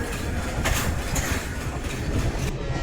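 Cuban train on the Holguín to Guantánamo line, departing San Luis Combinado, running with a steady broadband rumble and faint rhythmic wheel clatter close by.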